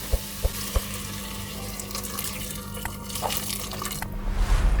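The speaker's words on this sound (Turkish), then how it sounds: "Etlerimin iyice yumuşaması için biraz sıcak su ekleyeceğim" Hot water is poured into a pot of meat, a steady splashing rush close by, preceded by a few light clinks and ending abruptly.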